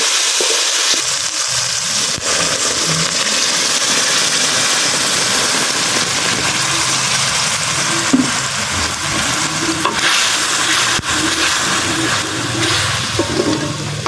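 Loud, continuous sizzling and crackling of spices frying in a pan on a clay stove for a country chicken curry, with a few faint scrapes, steady throughout and close up.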